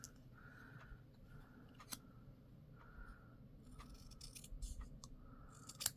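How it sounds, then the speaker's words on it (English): Metal snips trim paper for a card, giving a series of soft, faint, rhythmic snipping strokes with brief pauses and a small clatter near the end, close by and without speech. "So let's go ahead and bring in our snips. I'm just going to trim it down."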